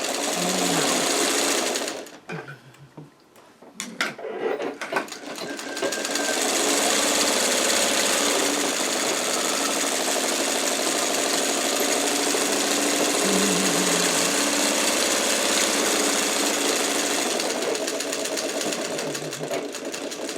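A sewing machine stitches a pillowcase seam and runs in a fast, steady mechanical whir. A brief stop with a few clicks, as if for a backstitch, precedes a long continuous run.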